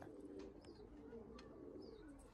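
Pigeons coo softly in a loft, with a couple of faint throaty calls and light chirps over a low background murmur, quiet and somewhat distant.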